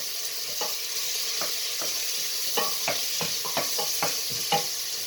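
Onions, garlic, chili and ginger frying in a pan under a loud steady sizzle, with a series of quick scraping stir strokes and light taps from a utensil, close up.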